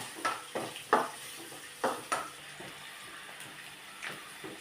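Ginger and garlic with turmeric powder are stirred in sesame oil in a pan. A spoon scrapes and taps in a few spaced strokes over a faint sizzle, close and fairly quiet.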